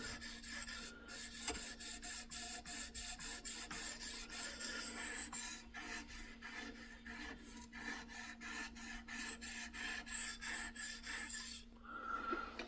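Rhythmic rasping strokes of a knife blade drawn across the abrasive stone of a Work Sharp Professional Precision Adjust sharpener, repeated evenly and close up with no talk.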